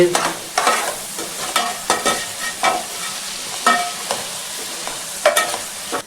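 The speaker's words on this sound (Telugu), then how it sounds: "టమాటా ముక్కలు కూడా నూనెలో బాగా మగ్గాలండి" Tomato pieces fry in oil for a tuna fish curry, giving a steady sizzle as a spatula stirs and scrapes through them in repeated close, rhythmic strokes.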